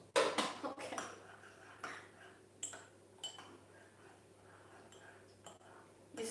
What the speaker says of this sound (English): You stir violently.